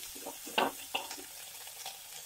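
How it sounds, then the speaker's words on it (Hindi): Corn kernels and peas sauté in a pan for restaurant-style vegetable soup, giving soft, faint sizzles broken by a few sharp stirring clatters. "इसको सौते कर लेंगे, मैं इसमें ये कॉर्न और मटर डाल रही हूँ"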